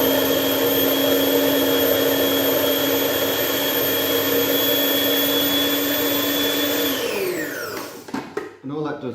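Food processor whizzing bread and chickpeas: a loud, steady high-pitched motor whine held for several seconds, then dropping in pitch as it spins down, followed by clattering and light handling noise.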